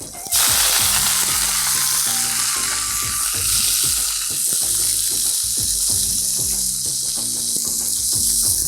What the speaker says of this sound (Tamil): நிதானமான தீயை வச்சுட்டு நல்லா வதக்கிடுங்க